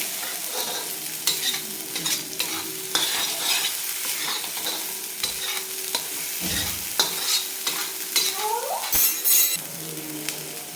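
Black masala spice mix stir-fries on a tawa for mutton, a continuous sizzle under repeated scraping and clinking of a spoon against the pan, close and without talk.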